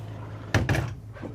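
A privacy door inside a 2024 Renegade Explorer 40ERB RV opens or closes with two quick close knocks over a steady low room hum, followed by a faint softer tap.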